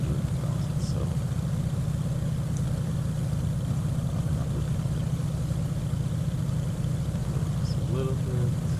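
A Carenado Beechcraft twin's engines idle in FSX flight simulator, a steady low droning rumble that holds even and unbroken throughout.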